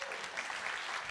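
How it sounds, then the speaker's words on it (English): Brief audience applause at a live-streamed event, a soft wash of many hands clapping at a distance, faint and short. "Let's give Matt another round of applause."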